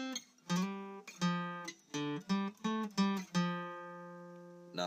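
A twangy guitar riff of single picked notes with slides, played at a moderate pace and ending on a sustained ringing note.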